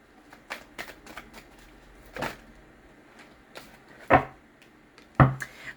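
Tarot cards shuffled by hand, giving soft riffles and flicks followed by a few sharper slaps of the deck, close and with no talking.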